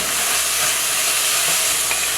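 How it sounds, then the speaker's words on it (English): Green seasoning and turmeric stirred in a cooking pot for a Trinidad curry, a steady close sizzle and soft hiss with faint scraping, continuous and alone. "Give it a stir."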